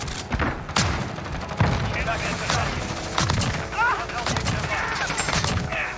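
Repeated gunshots and fusillade bursts in a shooter video game firefight with an R9-0 loadout, sharp loud reports spaced through the scene over steady game noise, with a voice talking between shots.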